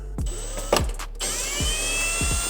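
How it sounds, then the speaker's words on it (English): A power drill works a screw out of the rear bumper of a 2017 Audi R8 V10 Plus, with several short, close bursts of whirring and a steady mechanical hum in a quiet workshop. "We'll see if we can get this one with the drill."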